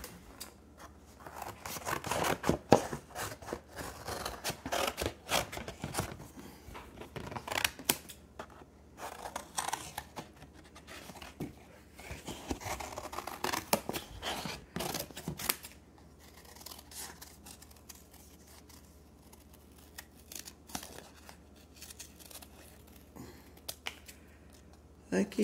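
Scissors snip through paper, cutting out a hand-drawn heart shape for a yarn-wrapped heart craft, with soft, uneven crunching cuts spread across a quiet room and occasional pauses.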